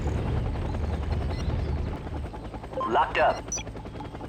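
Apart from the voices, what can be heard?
Mi-35 Hind attack helicopter, from video game Act of War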